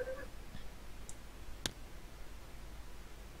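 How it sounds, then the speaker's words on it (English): Virtual game pieces in Tabletop Simulator snap into place with a faint tick followed by one sharp, crisp click against a quiet, near-silent background. "Clickety clickety."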